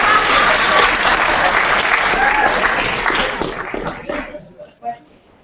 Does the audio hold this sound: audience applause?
yes